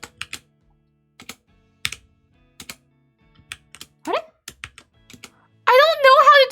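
Someone types on a computer keyboard with a Spanish layout: bursts of separate clicky keystrokes with gaps in between, close and clear. A voice breaks in near the end.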